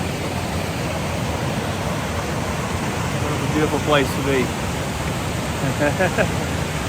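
A river rushes through a small gorge beneath a bridge at the Thompson River campsite, a loud steady roar of water filling the air while someone speaks briefly over it.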